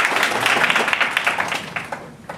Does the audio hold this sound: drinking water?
no